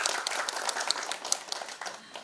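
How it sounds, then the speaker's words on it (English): Moderate audience applause for a speaker at a literature festival, a continuous patter of many hands clapping at middling distance, with a few sharper individual claps standing out and a gradual fade. "A warm round of applause for ma'am as well"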